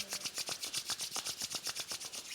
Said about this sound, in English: I invite you to rub them really fast together